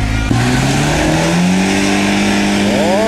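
Off-road vehicle engine revving hard and steadily while stuck on street tyres, pitch climbing and holding, loud and close throughout with no break.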